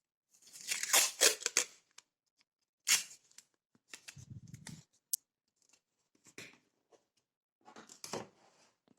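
Masking tape is pulled and torn in short rasping bursts to fix yarn in place, with brief crinkles and quiet pauses between, close and moderately soft.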